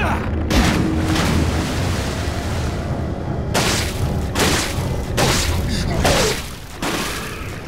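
Explosions in the video game Resident Evil 4, a loud, dense rumbling roar lasting through the clip with a couple of sharper bursts partway through.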